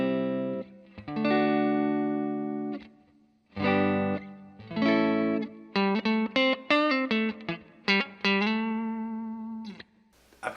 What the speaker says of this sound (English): We're plugged into the Blackstar HT5 on the clean channel,